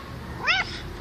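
A domestic cat gives a single short, clear meow, close and moderately loud against a quiet room background.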